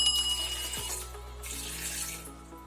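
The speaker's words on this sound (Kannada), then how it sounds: "ಇದಕ್ಕೆ ಸ್ವಲ್ಪ ನೀರು ಹಾಕ್ತಿದ್ದೀನಿ." Water runs into a pot holding carrot, tomato and half an onion for vegetable sambar, a steady close trickling stream with faint metallic ringing and a splashy burst midway, no voices.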